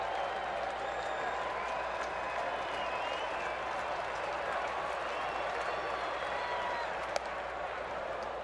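Baseball stadium crowd at a day game in Milwaukee, with steady, sustained clapping and cheering filling the background throughout.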